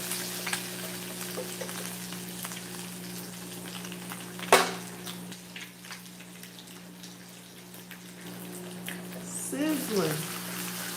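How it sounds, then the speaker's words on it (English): Bacon sizzling in a frying pan in a home kitchen, a faint steady crackle and hiss running throughout beneath a low hum, with a sharp clatter midway and a brief voice near the end. "Getting some bacon in here."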